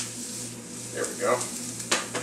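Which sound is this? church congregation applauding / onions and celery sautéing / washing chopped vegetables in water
onions and celery sautéing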